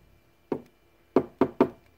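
A single knock followed by a quick run of three sharp knocks on a hard springtail culture container, close and clear against near silence.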